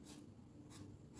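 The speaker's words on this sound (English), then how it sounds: "I'm going to write" A pen writes a short fabric label onto a paper dress pattern, giving two or three brief, soft scratchy strokes close by with quiet pauses between them.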